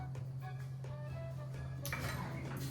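A spoon clinks and scrapes in a cooking pot of tomatoes, golden-brown onions and garlic for marinara, with light metallic taps spread through the stretch and a steady low hum beneath.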